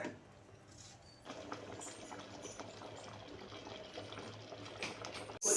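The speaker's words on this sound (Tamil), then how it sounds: "கொதிக்க கொதிக்க தேங்காய் பால் உருண்டை" A pot of coconut milk with dumplings bubbles and simmers steadily, a soft continuous boiling with small pops, ending in a brief sharp clatter.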